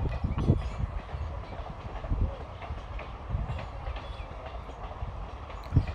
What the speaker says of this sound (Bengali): আর উল্টো দিকে যাচ্ছে মালগাড়ি তেলের ট্যাঙ্কার নিয়ে।